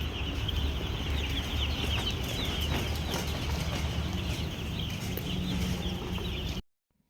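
A dense, continuous chorus of peeping poultry chicks fills a brooder house holding about 2,300 chicks in five brooders during hot weather, loud and steady throughout before cutting off abruptly at the end.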